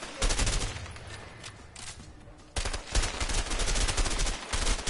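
Rapid bursts of gunfire in a shootout in the video game A Way Out, loud and sustained with repeated volleys and a brief lull midway.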